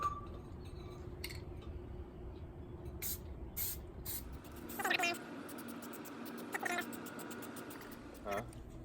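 Short bursts of aerosol spray putting a light first coat of Plasti Dip on Ford F-150 emblems, several quick hisses separated by pauses, with a cat meowing and people talking nearby.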